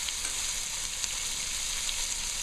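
Beef stew ingredients fry in a pot with a steady, close hiss and fine crackling sizzle, continuous and even without talk.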